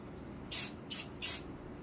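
Three short bursts of spray paint hiss over a model railway track, each about a quarter second long with brief pauses between, close and alone against quiet room tone.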